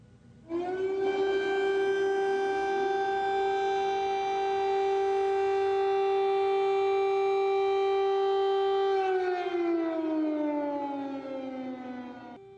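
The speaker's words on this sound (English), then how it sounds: "those sirens have been going off on and off throughout the day" A civil defense air raid siren in Kyiv, Ukraine, wails at a steady, loud pitch for several seconds, then slowly winds down, echoing across an otherwise quiet backdrop.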